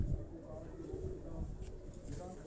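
Domestic pigeons from a local fancier's home coo softly while held in someone's hand, a low murmuring close by with faint background noise and no clear speech.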